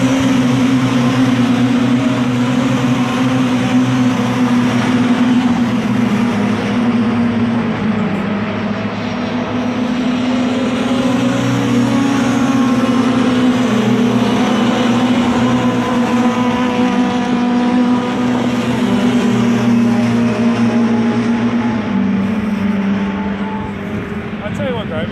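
Mini Miglia race cars at Silverstone roar past in a continuous loud engine drone, pitch shifting as the field goes by, with spectators talking and calling out over the noise.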